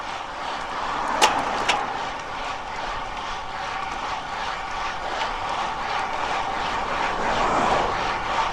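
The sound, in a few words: Winspace SLC 3.0 bike riding over chip seal at speed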